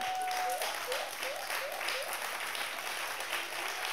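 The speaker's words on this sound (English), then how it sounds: "Oh, clap your hands." A church congregation claps hands together in a steady, rhythmic beat during worship, the sound filling a large room.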